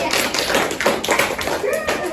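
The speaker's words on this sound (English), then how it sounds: "Let's give her a round of applause." A sixth-grade class applauds a student's presentation. Many small hands clap quickly and unevenly for about two seconds, close by in a classroom, with faint voices mixed in.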